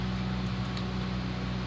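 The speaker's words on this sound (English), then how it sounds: "Don't know what all that noise is. Probably that truck over there." A truck parked near a beach gives off a steady, low rumbling drone with a broad, even noise over it, constant and unbroken throughout, with no talk.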